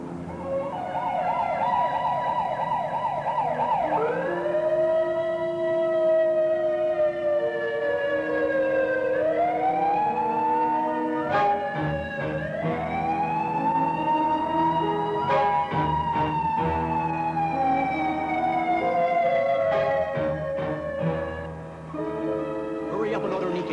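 An ambulance siren wails loud and close, its rising and falling tones sweeping up and down repeatedly over a steady engine rumble, with voices speaking in the background.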